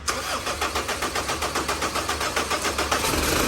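A car engine turns over and catches, then runs at a steady, rhythmic idle close by, loud and continuous with no voices.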